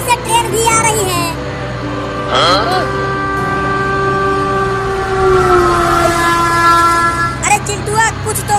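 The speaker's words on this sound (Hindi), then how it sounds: "ये टेम्पो तो ट्रेन की लाइन पर ही चलने लगा और आगे से ट्रेन भी आ रही है" In a cartoon, a train approaches along a railway track, sounding a long, loud, wavering horn over a rumbling background, with brief voice sounds at the start and end.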